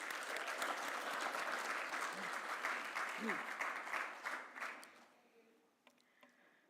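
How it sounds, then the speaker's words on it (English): An audience gives a blues band a big round of applause, dense clapping that holds for several seconds under a brief voice before thinning and fading out. "Another big round of applause"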